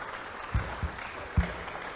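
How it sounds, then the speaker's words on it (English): A modest audience claps for both teams at the close of an academic English-language debate, a soft, steady patter with a few louder thumps, moderately distant. "Please give them a round of applause to both teams"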